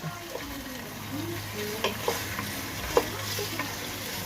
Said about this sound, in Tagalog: Then once it's hot, is cooked enough, you put the pork.